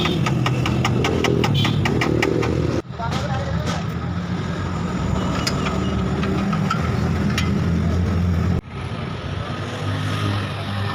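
A motorcycle engine idles loudly nearby with a steady, throbbing putter, while people talk over it.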